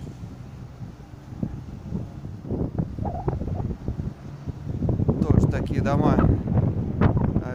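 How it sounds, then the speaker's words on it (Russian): Strong, cold spring wind buffets and roars against the microphone on Novokryukovskaya Street in Zelenograd, Moscow, gusting louder toward the end, while someone speaks briefly over it. "ветер жесткий и холодный"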